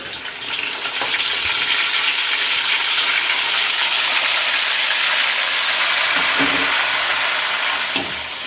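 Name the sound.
tomatoes frying with onions for bottle gourd curry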